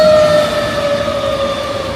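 A fire truck siren wails loud and close outdoors on a rainy day, holding a steady high tone as it passes, with no voices over it.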